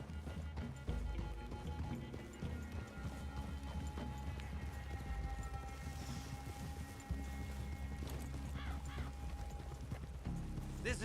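Horses in the video game Red Dead Redemption 2, hooves clip-clopping in a steady walking rhythm with occasional snorts and whinnies over a quiet outdoor ambience.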